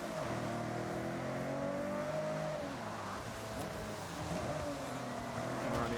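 A car engine races in the Forza Horizon video game, steady revving drone with rising and falling pitch as the car accelerates and shifts, moderately loud, no talk.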